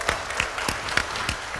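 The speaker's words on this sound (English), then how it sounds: "Give her a round of applause, everybody." A small group at a hospital disaster-evacuation training session applauds briefly, a few sparse, separate claps spaced out over a short moment at modest volume.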